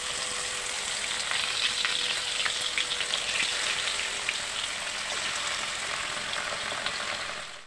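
Fish frying in a pan makes a loud, dense and continuous crackling sizzle, close and steady, with no voices over it.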